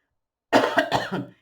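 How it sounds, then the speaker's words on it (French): A single close cough breaks out after a moment of silence, a short burst of rough, throaty hacks that quickly fade away. "je tousse en plus"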